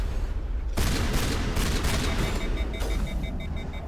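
Shotgun blasts in a video game, a burst of loud sharp shots in quick succession starting abruptly, close and dense, with game noise underneath.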